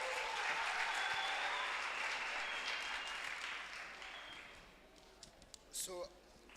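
Audience at a TVET college seminar applauds loudly and steadily for several seconds, the clapping gradually thinning and fading, with a brief burst of voices and noise near the end.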